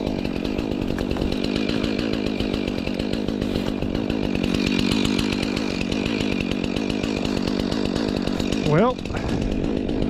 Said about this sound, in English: I need to run the chainsaw up there,